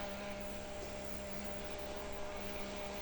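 A small rechargeable USB fan blows on freshly sprayed makeup setting spray near the face, giving a steady, close, unbroken whirring hiss with no talking.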